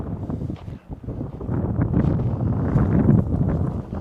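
Gusty, cold wind in a forest buffets the microphone in a low, rough roar that swells and stays strong throughout.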